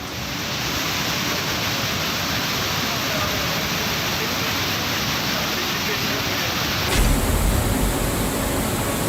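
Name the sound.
strong stream of water falling from a hill into a temple courtyard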